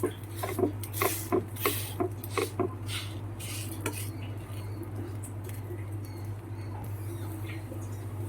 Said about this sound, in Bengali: দেখো এই পিঠটা ভাজা হয়ে গেছে আর খুব সহজে এটা উল্টে যাবে